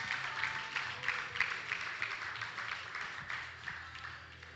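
An audience at a Cayman Islands regional powerlifting championship gives athletes a quick round of applause, heard as faint, distant, evenly rolling clapping from start to finish.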